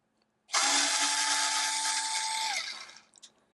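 A Dovaman E009A 4V cordless screwdriver whirs steadily for about two seconds while removing screws from a Blu-ray player, a close, high-pitched motor whine that winds down and stops, with no talking.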